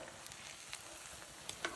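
A salt cod fritter (bacalaíto) frying in hot oil in a pan: a soft, continuous sizzle with scattered small pops and crackles, close but fairly quiet.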